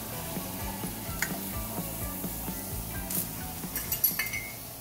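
Corn sorullitos frying in a pan: a steady oil sizzle with repeated stirring scrapes and light clinks of a utensil against the pan, close and with no talking.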